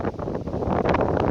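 Strong outdoor wind buffets the microphone in loud, continuous gusty roars with a rustling edge, filling the whole moment.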